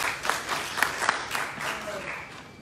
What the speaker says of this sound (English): Let's give them a quick applause before we leave this